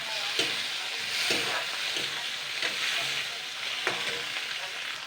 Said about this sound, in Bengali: এবার এটাকে আমি মশলাটাকে ভালো করে কষাবো 1 মিনিট ধরে, মানে ভাজা করে নেব।